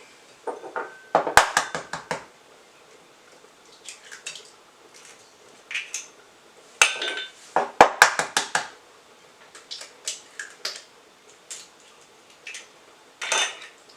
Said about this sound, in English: Then we're going to add 2 eggs.